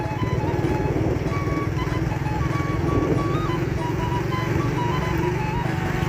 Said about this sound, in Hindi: ये सामने ये जो लोग बाइक्स पे आते जाते हैं, ये फुलजी और शहीद मखदूम का रास्ता है।